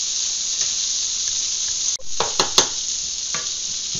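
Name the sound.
farmer sausage sizzling while stir-frying in a pan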